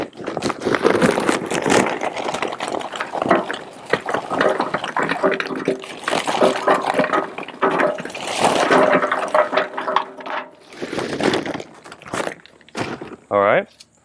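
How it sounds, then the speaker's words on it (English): Kingsford Professional charcoal briquettes pour from an opened bag into the top hopper of a Masterbuilt Gravity smoker: a loud, close, steady rattling clatter that runs for many seconds, then thins into brief bursts near the end. "I'm going to just open it up and pour it in to the top of the hopper."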